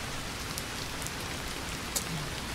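Steady rain pours down throughout, a dense even hiss of drops striking surfaces, with a couple of brief louder drips near the end and no talking.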